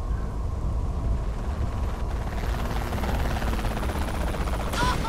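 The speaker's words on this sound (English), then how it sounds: "there's a chopper shooting me" Helicopter in the video game Saints Row The Third, a steady loud rotor thrum and whine holding throughout, with busy game sounds layered over it and no speech.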